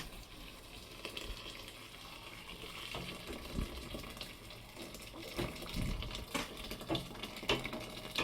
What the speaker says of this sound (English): add boiling water to cover the beans